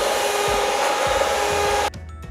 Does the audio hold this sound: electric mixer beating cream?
yes